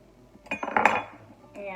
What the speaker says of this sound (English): So I'm going to just cut an avocado in half.